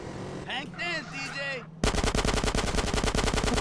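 Rapid automatic gunfire in Grand Theft Auto San Andreas while targeting a bike, a dense, loud rattle of shots starting abruptly after a stretch of speech and continuing steadily to the end.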